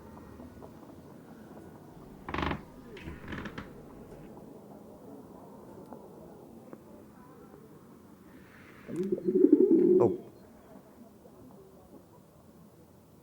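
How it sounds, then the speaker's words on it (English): Pigeon in the Anne Frank House virtual reality experience cooing once, a short low warbling burst about a second long over quiet room ambience; a brief exclamation and a few soft knocks come earlier. "Was that a pigeon?"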